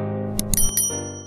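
A bright notification bell sound effect rings several quick metallic dings with a ringing decay, clear and close.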